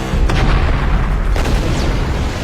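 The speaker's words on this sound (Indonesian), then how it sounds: "You jump really fast, you might survive the blast." A loud film explosion blast with heavy low rumble, followed by a second sharp boom about a second later, all dense and close.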